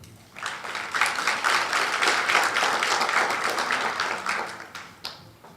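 An audience at a legal conference inauguration claps to welcome a speaker, applause swelling quickly to a full, steady burst for several seconds before tapering off near the end.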